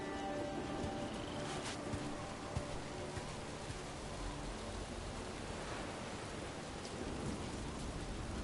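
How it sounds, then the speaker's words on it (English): A rainstorm in Dragon Age: The Veilguard pours as a steady, even hiss with a rolling low rumble of thunder beneath, fairly quiet and unbroken throughout. "Do not stay out too long in the storm"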